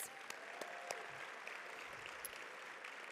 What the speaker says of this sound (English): can we give a round of applause for all the servers and the crew that have made this an amazing conference?